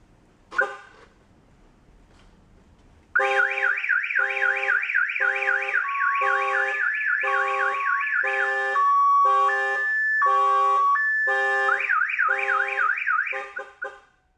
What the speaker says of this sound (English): it also has a horn tied into the system, as well as a 6-tone psycho siren